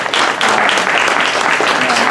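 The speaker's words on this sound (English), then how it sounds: "If you also give them a round of applause for hosting that." An audience gives a round of applause for the hosts, ShipShape and One Treasure Island: a dense, loud, steady wash of clapping with talk mixed in.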